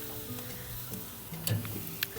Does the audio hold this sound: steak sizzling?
yes